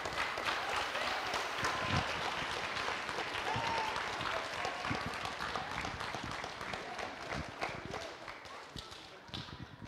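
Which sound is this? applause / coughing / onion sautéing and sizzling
applause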